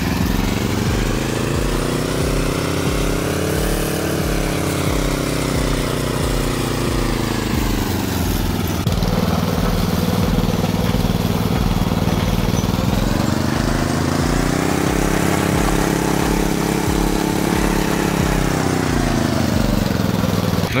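A walk-behind tractor engine runs loud and close while clearing snow with a blade, a steady chugging drone whose pitch rises and falls as the load changes, with no talk over it.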